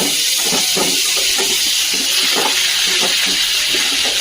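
Green chili and leafy greens hitting hot oil in an open pan, a loud steady sizzle and hiss with crackling pops throughout, close up and without talk.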